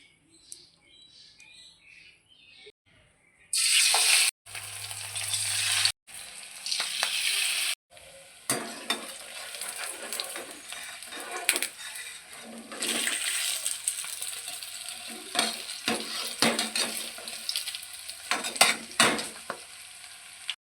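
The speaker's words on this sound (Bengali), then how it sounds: "গরম হয়ে গেছে, এবার এভাবে এক এক করে দিয়ে ভেজে নেব।" Malabar spinach leaf fritters dropped one by one into hot oil, a quiet start giving way to loud bursts of bubbling sizzle, with frying continuing steadily and occasional clinks, close up.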